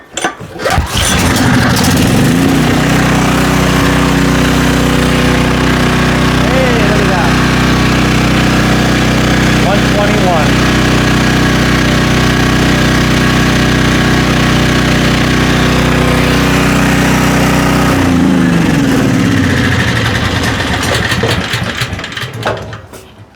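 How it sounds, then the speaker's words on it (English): A Storm Responder generator's engine runs on a test stand, loud and steady from a quick start to a shutdown near the end, with a constant droning hum throughout. "All right, so the engine is sounding good."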